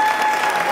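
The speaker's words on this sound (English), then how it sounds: "Let's give him a round of applause." Dense audience applause at a talk on Moorish American and Black identity, steady broadband clapping for the whole brief moment with no gaps.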